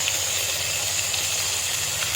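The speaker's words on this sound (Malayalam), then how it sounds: "ഇതിനെ ഇളക്കി യോജിപ്പിച്ച് കുറച്ച് നേരം വഴറ്റുക, വേവിക്കുക" Tomatoes for a kudampuli mackerel curry sauté in a pan, giving a steady close hiss and sizzle with no breaks and no talking.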